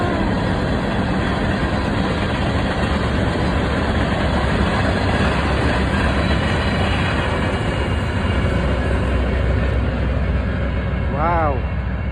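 Long freight train on Route 66 rumbling past, a loud continuous heavy roar and clatter that holds steady for the whole stretch, with a voice talking over it.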